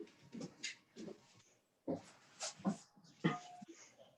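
A dog whimpers in short, soft bursts and shuffles around close by, with quiet pauses between the whines and some breathy movement noise.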